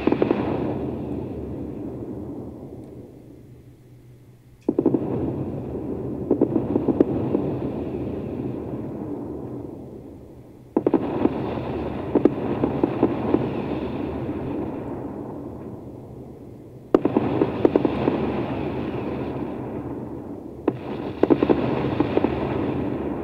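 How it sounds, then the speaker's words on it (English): Weapons fire in an Endless Space 2 space battle, heard as loud rumbling volleys of blasts in several long bursts with short gaps between them, booming like fireworks, with no talk. "they're shooting at our fighters"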